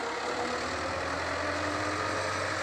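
A tractor engine idles and runs in a field in Palakkad under intense heat, giving a steady, loud, low mechanical drone with no talking.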